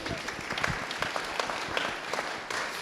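An audience at an art event applauds, a steady wash of many hands clapping at moderate volume, with a few sharper individual claps standing out throughout.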